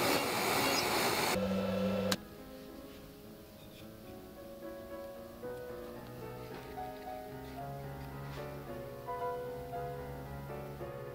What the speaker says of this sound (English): If you hate your neighbors, buying a CNC machine is the way to go.